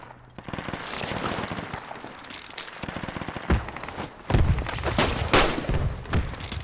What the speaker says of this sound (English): there's other dudes shooting us